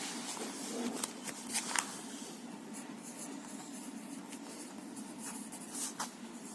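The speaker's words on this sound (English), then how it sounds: "So first we will write our topic name." A topic name for a bag design art lesson being written on paper, soft continuous scratching of a pen or pencil with occasional sharper strokes, close and quiet over a light room hum.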